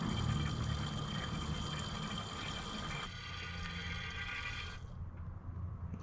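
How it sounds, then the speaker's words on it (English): Used motorcycle oil drained from a Yamaha TW200 pours steadily into a measuring cup, a continuous close liquid rush that thins and changes tone partway through, then fades near the end. "empty this into a measuring cup and see exactly how much came out"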